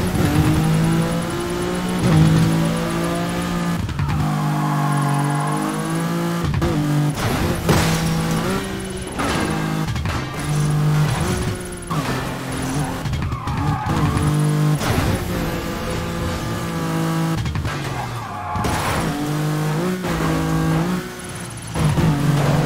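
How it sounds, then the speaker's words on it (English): Cars in the video game Burnout Paradise boost and drift, with engines revving and rising in pitch, repeated tyre skids and bursts of acceleration, loud and continuous over game music. "Use boost and drifts to combo together the most outrageous jumps, rolls, and spins to beat the target score inside the time limit."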